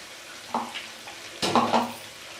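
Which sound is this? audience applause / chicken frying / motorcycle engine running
chicken frying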